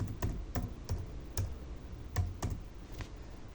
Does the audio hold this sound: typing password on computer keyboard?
yes